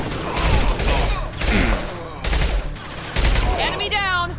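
Rapid bursts of gunfire in the video game Mass Effect 2, several loud volleys with brief pauses between them, with sound effects layered over the shots.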